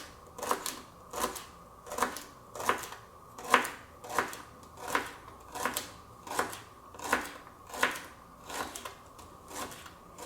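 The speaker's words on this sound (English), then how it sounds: "And then just give it a nice mincing until you have about 2 tablespoons" Steady rhythmic knife chops mincing a small celery stalk on a cutting board, about thirteen sharp even strikes spaced roughly evenly, close and clear with no talking.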